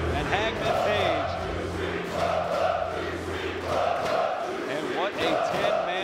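A loud wrestling crowd at a 10-man tag match roars and chants in rhythmic swells, the cheering rising and dipping in repeated waves under steady commentary.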